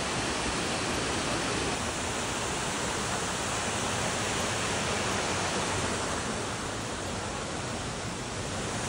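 The Triberg waterfall in Germany's Black Forest thunders as a constant, loud roar of falling water, steady and full-bodied from start to finish with no talk over it.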